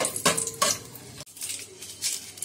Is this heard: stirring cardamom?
yes